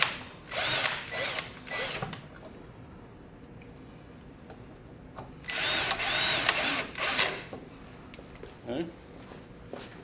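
A power drill drives screws back into a mount during a wiring project, with several short whirring bursts separated by pauses, loudest in a long central run, close by and clear.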